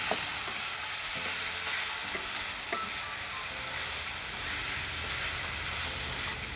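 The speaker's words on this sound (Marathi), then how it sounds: "आता आपण हे पडवळ्याचे तुकडे घातल्यानंतर मस्त हलवून घेत आहे" Snake gourd pieces sizzle steadily in a pan while being stirred, a continuous frying hiss with a few soft scraping knocks of the spoon.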